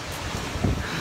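Seaside on a Calabrian beach with steady wind buffeting the microphone and waves washing in the background, a continuous close rush with no talking.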